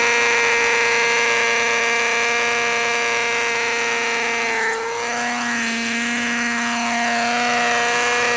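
A Kestrel electric RC helicopter without a tail servo flies close by, its rotor and motor giving a loud, steady whine that drops in pitch for a moment partway through and then holds.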